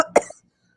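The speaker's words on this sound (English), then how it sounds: "I have to cough." A single short cough, close and fairly loud, a sharp burst followed by a quick fading tail, alone with no talk around it.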